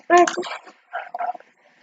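A dog gives a few short barks and yelps in quick bursts, with pauses between them, from the video game Mini World.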